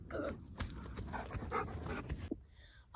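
A dog runs an agility jump during a beginner training demonstration, its steady, fairly loud panting and scrabbling movement filling most of the clip before the sound drops away near the end.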